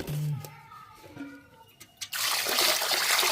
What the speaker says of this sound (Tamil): நம்ம கழுவி எடுக்கணும் தண்ணி ஊற்றி